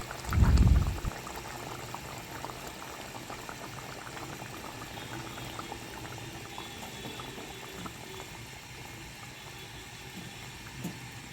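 Fish curry with potatoes and fried fish pieces simmering in a pot, a soft continuous bubbling close by after a brief louder thump at the start, no voices.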